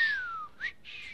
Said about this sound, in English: Whistling innocently.